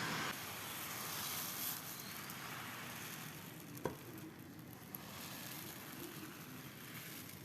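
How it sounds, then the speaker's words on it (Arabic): Crepe batter hits a hot pan and sizzles in a steady, even hiss, with a couple of faint clicks as the pan is swirled. "اول ما الطاسه تسخن ننزل بالعجينه وندور الصينيه على طول."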